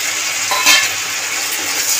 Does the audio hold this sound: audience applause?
no